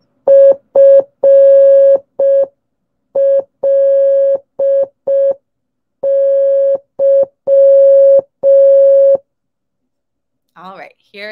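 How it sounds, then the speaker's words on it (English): Morse code beeps spelling a three-letter word, a clean steady tone in short and long pulses with small gaps between letters, loud and alone, followed by a brief moment of speech at the end. "what word am I spelling out in Morse code?"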